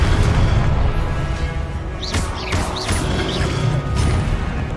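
Confringo fire spell exploding in the video game Hogwarts Legacy: loud booming, crashing bursts with whooshing magical sweeps, repeating over a dense, steady game soundscape.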